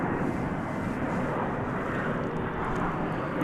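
An airliner arriving from San Antonio at Dallas Fort Worth Airport: a broad, steady jet roar that stays constant and moderately loud for the whole stretch, with no voices.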